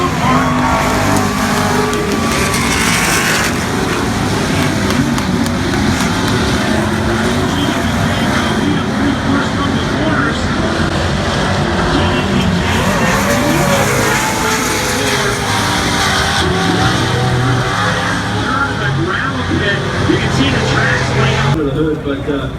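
Off-road Midwest Pro 2 race trucks roar through the first turn, a dense, continuous engine din with shifting pitches from several vehicles, loud throughout with commentary voices running underneath.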